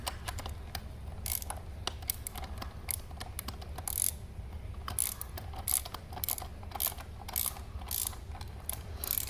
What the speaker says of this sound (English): You can thread this nut down, and then just tighten it back down.